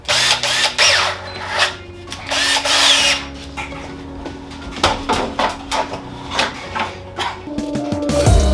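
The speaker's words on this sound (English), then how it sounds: "Alright, so let's start drilling." Bursts of a power drill whirring in short spurts with pauses between, alongside clinks and handling noises nearby.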